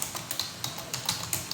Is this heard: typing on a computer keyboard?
yes